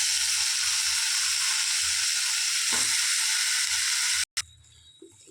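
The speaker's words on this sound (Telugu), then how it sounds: "దీన్ని ఈ విధంగా కలుపుకోవాలి." Aloo bonda filling is stirred in a hot pan, a loud steady sizzle with soft scraping strokes, then the noise cuts off abruptly near the end, leaving a quieter hiss and light clinks.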